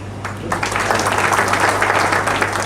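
An audience at a teachers' honouring ceremony at Gitanjali Institute breaks into dense applause after a brief pause. The clapping swells quickly and stays loud and even to the end, over a low steady hum.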